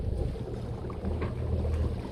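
Sailboat moving slowly at about 3.8 knots in very soft wind on a passage toward Lanzarote, a continuous low wash of water along the hull mixed with gentle wind rumble on the microphone.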